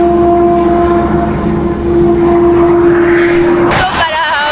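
Heavy trucks roar past at full speed in a zombie city video game, a steady engine drone with a sustained tone that cuts off near the end, and someone talking over it.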